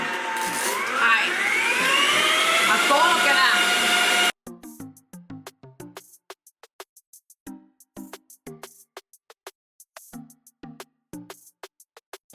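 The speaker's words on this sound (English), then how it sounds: "We are going to whip them using my mixer" A stand mixer whirs steadily while whipping egg whites for about four seconds, then shuts off, leaving a series of faint clicks and knocks.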